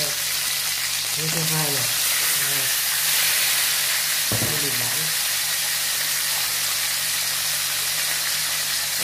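Fish fries in a pan of spattering oil, a loud continuous sizzle and hiss, while a voice speaks briefly over the crackling.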